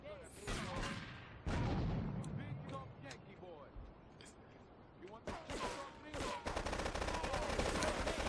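AK rifle fire in GTA Trilogy Remastered, sharp bursts of shots with a heavy automatic stretch at the end, loud and close, while someone talks excitedly between the volleys.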